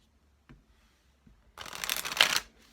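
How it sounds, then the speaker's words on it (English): Herbal Oracle deck cards being gathered up from the floor and handled: a soft tap near the start, then a dense burst of close card shuffling and riffling lasting about a second, with no talk. "my entire deck of the Herbal Oracle deck fell on the floor, and there's cards everywhere, and I have to pick them up."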